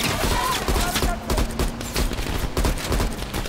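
Gunfire in the Call of Duty Black Ops Cold War campaign: dense, rapid bursts of shots fill the whole stretch, loud and continuous, with no talk.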